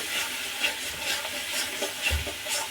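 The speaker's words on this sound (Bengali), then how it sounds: "মাছ ভাজা তেলের মধ্যে মশলাটাকে দিয়ে একটু কষিয়ে নেব" Spices stir-fried over low heat in the oil left from frying fish, a Bengali-style masala cooked without turmeric, giving a soft, steady sizzle with faint stirring scrapes and a low thump near the end, close and quiet.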